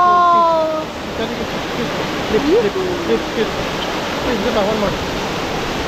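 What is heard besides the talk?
Flood Falls waterfall rushing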